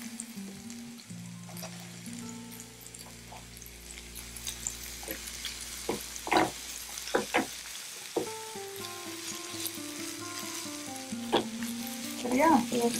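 Ginger garlic paste frying in a hot pan sizzles steadily while a utensil stirs and scrapes in sharp clattering bursts, with some faint tonal sounds in the background.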